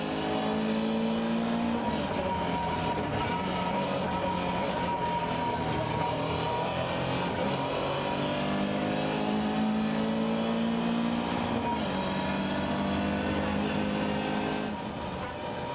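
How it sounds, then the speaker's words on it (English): Rally cars, including a Toyota MR2 and Porsche 944s, racing through tight, twisting tarmac roads during Targa New Zealand 2007, with a steady engine drone whose pitch climbs and drops through repeated gear changes. "Chris Alexander is revelling in the tight, twisting conditions after the tunnel, hauling in Rick Finucane's MR2"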